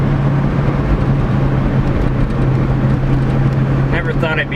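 A red C5 Corvette with its hood and bumper removed drives along, giving a steady, loud engine drone with a constant low hum and rushing road and wind noise throughout.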